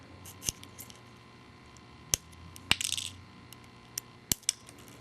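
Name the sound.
wire snippers snipping coil wire close to posts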